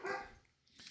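A dog barks in a quick pair of yaps, close and fairly loud, while music plays softly in a room.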